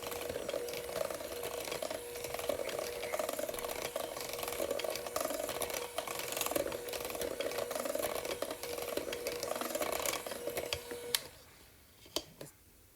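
Electric hand mixer whirring steadily on low speed through muffin batter for gluten-free banana chocolate chip muffins, a continuous mechanical drone with rattling texture, up close, cutting off near the end to leave quiet clicks.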